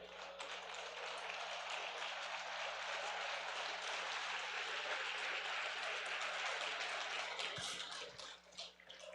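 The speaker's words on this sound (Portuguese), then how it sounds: "Dá uma salva de palmas ao Senhor, por favor." A church congregation applauding during a Sunday service, sustained dense clapping from many hands at a steady level, fading slightly near the end, with a low electrical hum underneath.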